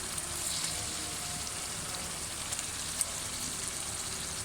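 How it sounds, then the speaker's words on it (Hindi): Boneless chicken frying in masala in a pan, a steady close sizzle and crackle that carries on throughout without any talk over it. "इसके अंदर हम ये बोनलेस चिकन ऐड कर रहे हैं।"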